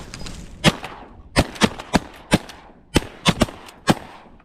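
Shotguns fire during a duck hunt over flooded bean fields in North Dakota, a rapid volley of about a dozen loud, sharp blasts in quick clusters, each ringing briefly before the next shot.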